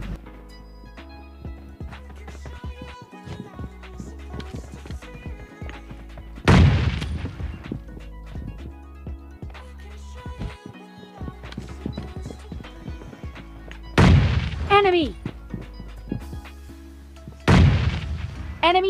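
Grenades going off in the PUBG video game, three loud booming explosions spaced several seconds apart, each a sharp close blast that rumbles away, over a busy backdrop of steady game sounds and footsteps.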